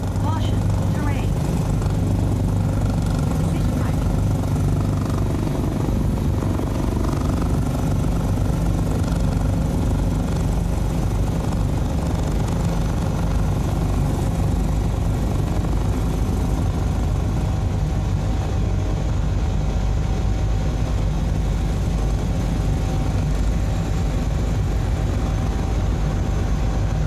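Steady, loud aircraft engine drone holds through the whole stretch as a plane taxis in Microsoft Flight Simulator 2020, with a constant low rumble and no breaks.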